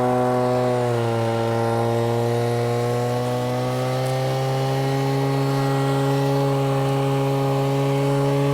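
A Vac Pak gas-powered suction dredge runs continuously on a gold-prospecting hillside while its hose pulls material out of bedrock crevices, a loud, steady droning motor with a slight pitch dip early on, then an even hum.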